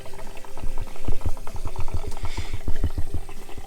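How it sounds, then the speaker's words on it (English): Gurgling, glugging water pours out of an RV hot water tank's open safety valve in rapid rhythmic bursts, close and fairly loud. "with this safety valve open, the water will come out"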